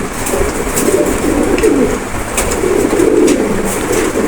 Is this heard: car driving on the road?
no